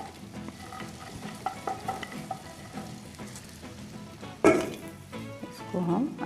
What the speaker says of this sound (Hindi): इसको हम अच्छी तरह से चलाएंगे थोड़ा